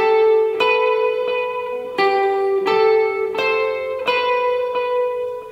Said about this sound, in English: the intro to the song has a really great delayed electric guitar sound